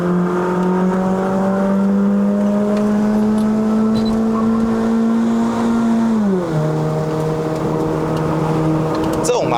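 A remapped 2009 Honda City GM2 1.5 engine pulls uphill on a mountain road, a loud steady drone climbing slowly in pitch, then dipping sharply at an upshift and settling lower, heard from inside the cabin.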